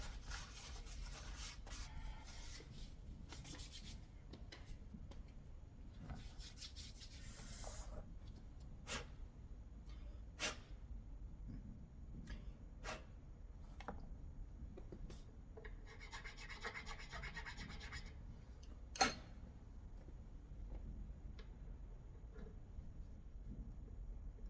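Wood being rubbed and filed while dressing a guitar fingerboard on a custom build, a quiet irregular rasping with scattered sharp ticks and short bursts of scraping, over a low steady room hum.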